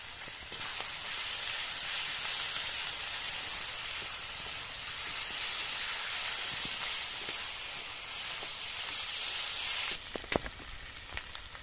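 Ginger garlic paste and turmeric sizzle in a pan while a young jackfruit curry is cooked village style, a steady loud hiss that holds throughout, with a few brief clatters near the end.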